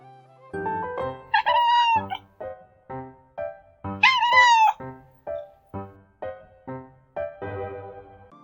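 A cat meows in a rhythmic run of short calls, about a dozen in steady succession with two longer, drawn-out cries, close and clear with nothing else heard.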